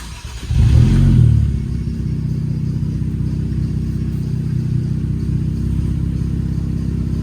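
A Nissan Z with upgraded turbos revs hard, with a loud surge in the first second, then settles into a steady, strong, rumbling idle that runs on at a high speed.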